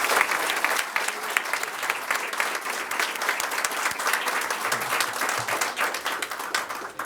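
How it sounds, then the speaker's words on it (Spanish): A scholarship award ceremony audience claps loudly and steadily for several seconds, dense applause with no voices rising above it. "otro fuerte aplauso para Sebastián"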